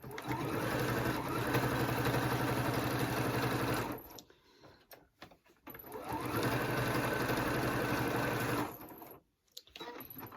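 A sewing machine stitches quilt binding in two long, fast runs of steady mechanical whirring, each lasting about four seconds. Short pauses filled with faint handling noises separate the runs, and all of it is close by.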